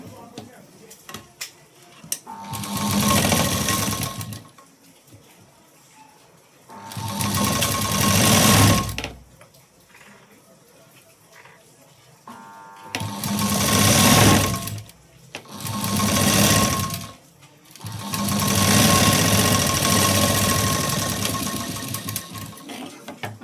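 A sewing machine stitches a blouse in several close, loud runs of rapid needle clatter lasting a few seconds each. Short quiet pauses separate the runs.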